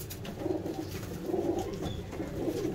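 A pet pigeon coos in soft, repeated low rounds, close by, over a steady background hum.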